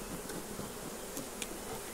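Honeybees buzz in a steady, dense drone while frames are shaken out of a hive into a second box, with faint clicks and knocks over the continuous hum.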